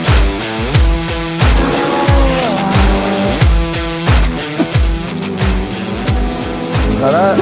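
Sports car, the replacement for a sold Lamborghini, revving hard on a race circuit, with loud repeated engine rises and sharp gear-change drops in quick succession throughout.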